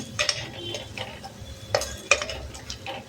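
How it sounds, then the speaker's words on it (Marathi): A spoon stirs dal as it sautés in a pot for a traditional one-pot meal, giving a few scattered scraping clinks and soft sizzling, quiet and close with no talking. "डाळ पण छान परतते."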